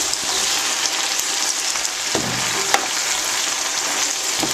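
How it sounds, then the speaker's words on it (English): Green beans sizzle steadily as they sauté in a frying pan, with a continuous close hiss and occasional soft scrapes from stirring. "I am going to stir these around a little bit."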